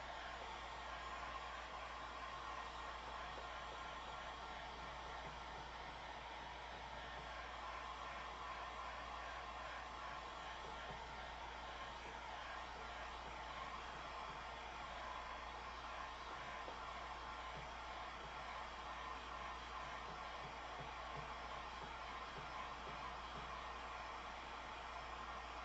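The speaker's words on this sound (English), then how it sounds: "This is my Lowe's Home Improvement Store heat gun." A Cobalt heat gun from Lowe's runs with a steady, close, blowing roar that holds unchanged from start to finish, with no voices over it.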